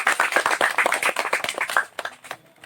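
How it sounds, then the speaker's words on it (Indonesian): A small audience at an environmental talk claps in a brief burst of quick, close handclaps that thins out into a few scattered claps. "Bagus, beri aplaus untuk pertanyaan"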